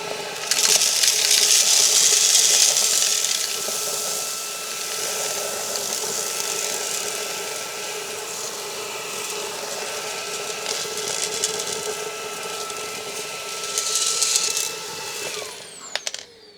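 Makita XGT 40V cordless stick vacuum running steadily for the whole stretch, a loud continuous motor whine with a rough rattling undertone as screws, plastic spacers and dust are sucked up, with a brief surge near the end.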